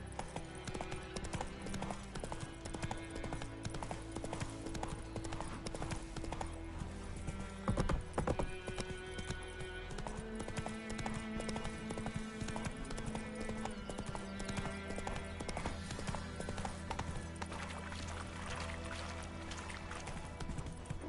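Roach, a horse in a video game, trots steadily with continuous clip-clop hoofbeats over a dense, loud layer of music and ambience, with a brief louder burst near the eighth second.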